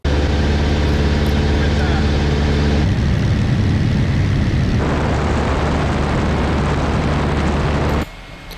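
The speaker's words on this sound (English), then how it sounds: "We see that the engine is working fine" A single-engine airplane engine runs at a loud, steady drone with a strong harmonic hum that shifts to a rougher roar partway through, then drops away abruptly near the end.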